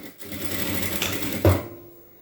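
A sewing machine runs a steady, close whirring stitch across blouse fabric for about a second and a half, then winds down and stops.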